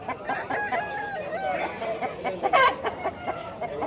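A rooster at the Vijayawada poultry market crows in a wavering, drawn-out call close by, followed by clucks and a sharper burst of calls, with faint background voices.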